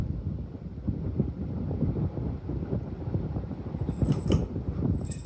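A matte black Hunter Original 52-inch ceiling fan from around 1984 runs on high, giving a steady low airy whoosh with a few light metallic ticks near the end.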